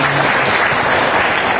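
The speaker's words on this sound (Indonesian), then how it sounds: "Tepuk tangan Bapak Ibu." Brief burst of loud, dense audience applause at an indoor gathering on halal certification for small businesses, a continuous wash of clapping with no break.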